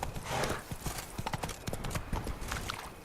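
Roach, Geralt's horse in The Witcher 3 video game, gallops with rapid, rhythmic hoofbeats that come through clearly and close, a steady clip-clop running for the whole stretch with no voices over it.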